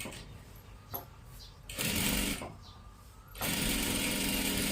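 A sewing machine stitches along the very edge of a salwar, running in short bursts: two brief whirs, then longer loud stretches of fast stitching separated by a pause, close up.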